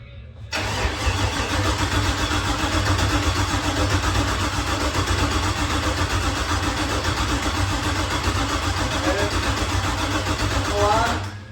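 An LS-swapped third-generation Camaro engine cranks and fires for the first time, settling into a loud, steady, close idle that runs unbroken, then cuts off at the end.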